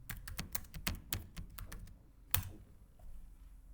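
Keystrokes on a computer keyboard while entering a software plugin name, a quick run of crisp, close clicks that pauses, gives a single sharper tap, then trails off into quiet.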